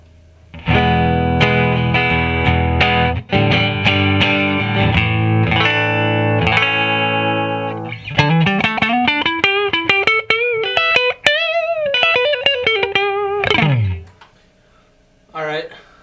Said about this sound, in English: I'll just play it clean here just so you get an idea what the guitar sounds like clean.